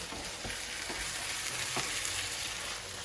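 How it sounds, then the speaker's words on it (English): A paprika spice mix is stirred through chorizo and beans frying in a pan. A steady low sizzle runs under several soft scraping stir strokes, heard up close. "And you want to give that a good stir."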